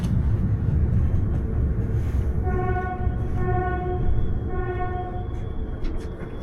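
A day train pulls into Curtici border station in Romania, a low rolling rumble of wagons with a horn-like tonal wail sounding in several short repeated bursts over the steady rail noise.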